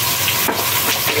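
Garam masala and onions frying in a pan for nihari, a steady close crackling sizzle with light stirring, no voices.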